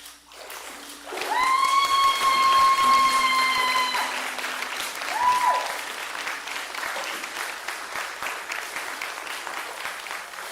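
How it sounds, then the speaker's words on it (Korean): Congregation applause after a Christmas Sunday baptism service in a Korean church, a sustained wash of clapping that swells, holds for several seconds and then thins out, with a sustained tone and a brief voice cutting through. "다시 한번 하나님께 영광의 박수를 올려드리겠습니다"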